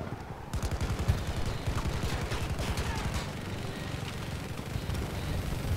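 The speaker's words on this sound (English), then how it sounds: "he's shooting us" Rapid automatic enemy gunfire in the Battlefield video game, a dense continuous rattle of shots that stays loud and close throughout, with no talk over it.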